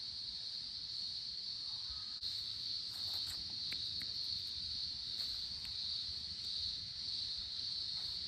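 Cicadas drone in a backyard as one continuous, high, shrill buzz that holds steady throughout, with a few faint clicks and rustles underneath.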